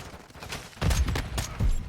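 Single shots from a rifle without full auto in the Modern Warfare II beta, a few loud separate cracks spaced apart over steady background game noise.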